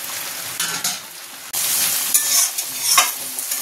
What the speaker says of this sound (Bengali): মাছটা দিয়ে দিলাম, একটু ফুটে যাক, জলে